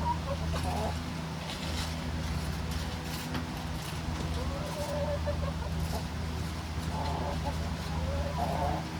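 Chickens clucking in a backyard flock, scattered soft clucks rising now and then over a steady low background hum, fairly close.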